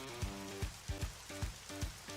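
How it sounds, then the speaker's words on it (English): Raindrops falling in ARMA 3, a soft steady patter with a few sharper drop hits, fairly quiet and with no voices. "So we have raindrops."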